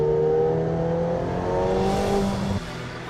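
A McLaren road-legal race car of about 700 hp sweeps through tight and fast curves, its engine holding a loud, steady, droning tone that shifts slightly in pitch before the revs drop sharply near the end.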